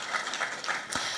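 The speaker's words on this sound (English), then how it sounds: "let's give one big final round of applause to all 14 of our incredible presentations" An audience at a startup accelerator demo day applauds, a dense steady patter of many hands clapping for just over a second.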